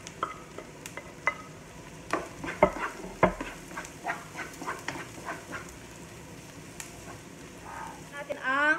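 Garlic sautéing in a pan with onion for Filipino-style spaghetti, a soft low sizzle under frequent scraping and stirring clicks of a utensil against the pan, close by.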